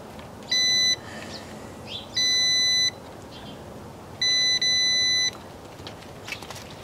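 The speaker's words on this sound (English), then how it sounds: "We'll check the continuity on the glow plugs." A multimeter gives continuity beeps while probing tractor glow plugs: three sustained electronic tones, one short and two longer, with brief gaps and a low background hum.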